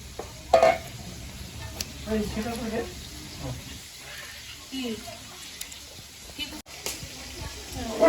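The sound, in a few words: frying masala for doi katla fish curry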